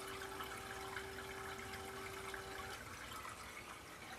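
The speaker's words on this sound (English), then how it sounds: "we have the water is now coming out of that line" Water running from a primed aquarium dosing pump line into a saltwater tank setup, a continuous close trickling rush alongside a steady pump hum that stops partway through.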